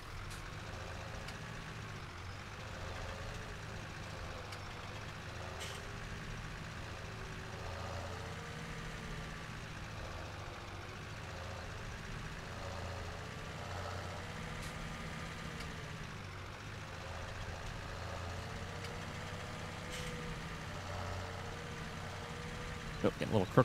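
A truck's engine idles and rumbles steadily for a long stretch while reversing a trailer in Farming Simulator 17, a low continuous drone with slight pitch shifts and faint beeping, ending in a few sharp clicks.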